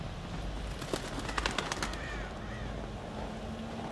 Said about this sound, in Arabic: ايش غراب